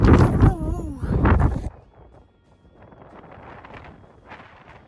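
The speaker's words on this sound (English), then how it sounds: "like it's too windy" Strong wind buffets the microphone on an Irish hilltop, first as loud low roaring gusts for about a second and a half, then dropping to a softer, steady rustling rush.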